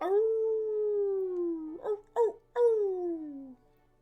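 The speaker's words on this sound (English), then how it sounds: "From outside of the vineyard, you once again hear the howls of peculiar wolves." Howls from wolves in the wilds outside a vineyard: one long, drawn-out falling howl, then a few short yips and a final sliding wail, clear against a quiet background.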